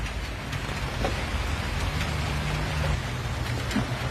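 Steady rain falls in Bangkok, a continuous close hiss of drops striking surfaces with no voices over it.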